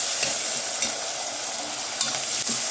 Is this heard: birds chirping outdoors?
no